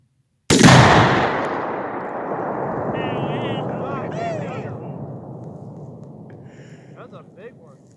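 One sudden loud blast from a shot target exploding outdoors, followed by a long rumbling decay, with faint voices talking over the fading boom.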